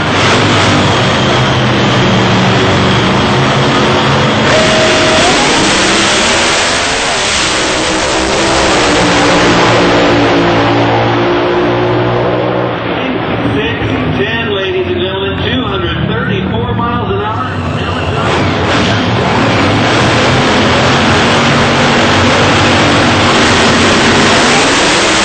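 Pro Mod drag race cars tearing down the track, a loud sustained engine roar with rising and falling revs as two cars run, while a voice talks over it.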